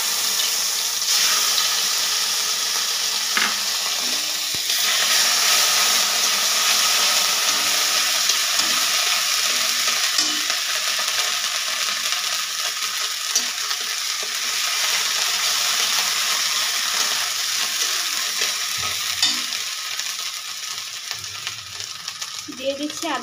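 Onion paste fries in hot oil in a pan, a continuous close sizzle with occasional stirring scrapes and small knocks running throughout, no voices.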